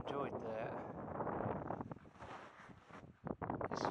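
Gusty wind roars and buffets the microphone in a steady rumble, with indistinct voices faintly mixed in.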